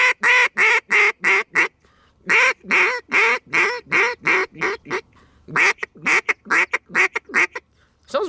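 A double reed duck call, a Buck Gardner Double Nasty or Zink PH-2 Powerhen, is blown close and loud in quick raspy quacking bursts, grouped into several rapid sequences separated by short pauses.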